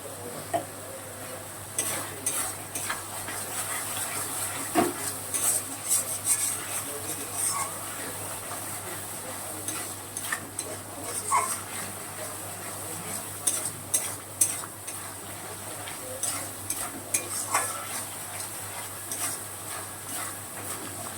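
Chole masala sautés in a pan, a low steady sizzle broken by repeated scraping and clinking stirs of a spoon against the pan, fairly close and moderately quiet.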